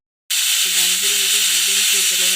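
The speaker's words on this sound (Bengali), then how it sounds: "আমি এখন পটল ভাজছি" Pointed gourd fries in a pan with a loud, close, continuous sizzle that starts abruptly after a short silence, over a faint tonal hum.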